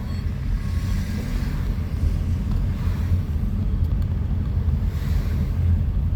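Wind rushes through an open car window beside the ocean at Lincoln City, Oregon, a steady, loud low roar and buffeting that continues without a break and masks any surf.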